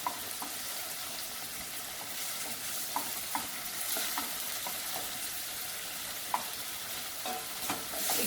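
Onions fry in a pan with a steady close sizzle. Occasional light taps and scrapes of stirring sound over it, and no voices are heard.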